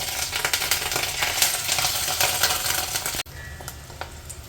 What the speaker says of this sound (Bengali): এবার আমি ভাজতে দিয়ে দেবো মাছের ডিমগুলো